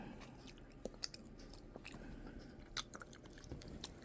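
Soft, close chewing of buttery, spicy noodles, moist and faint, with a few slightly sharper bites scattered through it and no talking.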